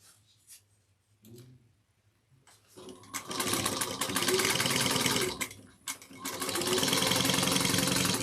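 Sewing machine basting lining into a woven willow tote, starting after a few faint handling sounds and running in a steady close whir, with one brief pause before it resumes.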